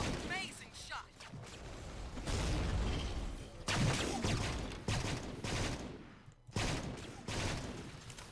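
Rotary gunner weapon fire from a Warthog or turret in Star Wars Battlefront 2 (2005) with a Halo mod, loud dense bursts of rapid gunfire and booms running almost continuously with brief gaps, mixed with other battle noise.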